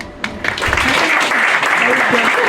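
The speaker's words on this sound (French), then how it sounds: "On applaudit la candidate numéro 2." Audience applause for a contestant at a Miss and Mister beauty pageant, dense clapping that swells up after a brief quieter start and holds steady, with a voice speaking over it.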